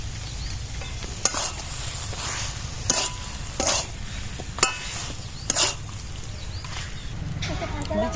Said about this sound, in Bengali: এইভাবে ভালো করে একটু নাড়াচাড়া করে কষে নিতে হবে